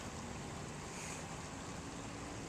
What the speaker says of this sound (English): as I look at this stream here running down to the creek